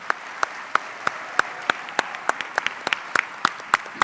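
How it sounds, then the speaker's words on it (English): An audience gives applause to honour a retiring director, Dale, for her years of service: a sparse, steady run of distinct individual claps spaced evenly at close range, with no voices over it. "If you would join me in applause for Dale for her service."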